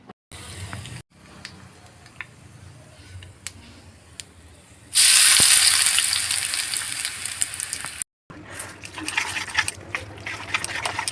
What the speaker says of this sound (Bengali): গরম তেলের মধ্যে হাফ চামচ কালো সর্ষে আর কয়েকটা কারি পাতা দেব।